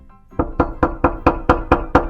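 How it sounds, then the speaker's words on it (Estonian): Eight evenly spaced knocks on a door, loud and close, following a brief quiet start, with no voices. "Jah, keegi koputab."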